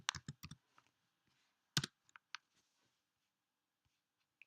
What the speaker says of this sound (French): Si je tape